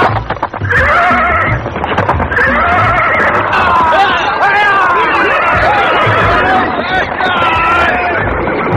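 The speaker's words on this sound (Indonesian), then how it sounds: "Seorang pemuda menunggang kuda dengan kecepatan tinggi menuju ke sini." A radio-drama sound effect of a horse galloping at speed, with loud, repeated whinnies over steady clip-clop hoofbeats and a faint murmur of voices behind.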